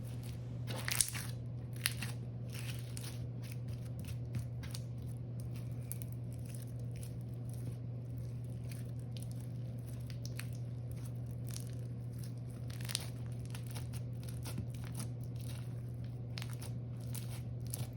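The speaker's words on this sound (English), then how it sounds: "Overall, this was a really nice crunchy slime. I enjoyed stretching it and getting some crackles out of it." Crunchy slime crackles and pops in scattered bursts as it's stretched, close and soft over a steady low electrical hum.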